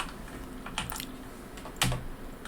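Computer keyboard keys, WASD and enter, are pressed close by in a few scattered clicks, with a firmer keystroke near the end against a faint steady hum.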